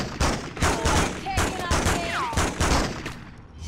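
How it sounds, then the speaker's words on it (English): Sustained gunfight gunfire from a Spider-Man 2 video game, with dense bursts of repeated shots in a steady rhythm, loud and close, and faint whistling or voice-like sounds woven through the volley. "There's some kind of gunfight happening over there."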